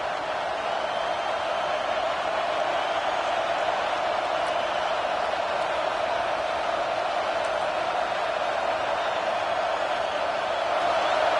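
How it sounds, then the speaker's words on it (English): A steady, dense stadium crowd roar fills a college football game near the goal line, holding an even, loud hum of many voices throughout with no single shouts standing out. "This crowd is trying to inspire this defense to make a big red zone stop."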